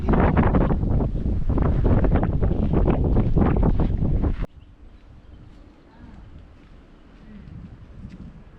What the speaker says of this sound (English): The wind is not on our side.